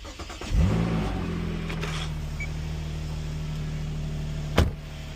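A 2007 Infiniti G35 with a new starter cranks briefly and fires, then its engine settles into a steady idle, close up, with a sharp knock near the end.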